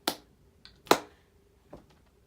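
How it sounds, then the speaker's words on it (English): Two sharp hand claps from a woman close to the mic, with a few softer taps between them and silence around them. "Why do I always clap?"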